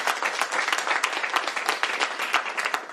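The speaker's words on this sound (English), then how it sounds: "Please give them a round of applause for joining us and their hard work." Dense, lively applause from an audience at a governor's bill signing ceremony, many hands clapping together in a continuous crackling wash that stays steady throughout.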